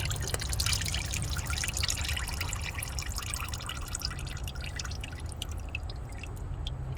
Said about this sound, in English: Sometimes you'll have a little bit of oil come out of there.